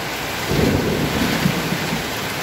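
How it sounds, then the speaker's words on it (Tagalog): A low rumble of thunder rolls beneath steady heavy rain, swelling briefly and fading, with no one talking. "Lakas ng kulog."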